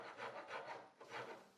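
Wood rasp working over a hand-carved wooden angel sculpture, strokes trimming edges and shaping details, three or four rhythmic rubbing passes, close and moderately loud with no talking.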